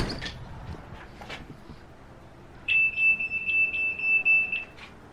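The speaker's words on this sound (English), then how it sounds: "Yi outdoor cam has a deterrent alarm that is automatically triggered when the camera senses motion" A Yi outdoor security camera's motion-triggered deterrent alarm sounds a steady, loud electronic tone, pulsing in short repeated bursts for about two seconds after a quiet stretch of faint room noise.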